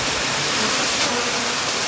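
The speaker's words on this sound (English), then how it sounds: "But the best news ever is it's fast flowing spring water." Fast-flowing mountain spring water in the Himalayas rushes continuously, a dense, loud, steady hiss of water with no breaks.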